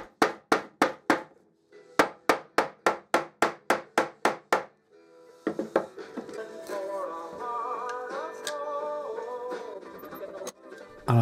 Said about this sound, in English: I made sure all of the frets were properly seated using a mallet.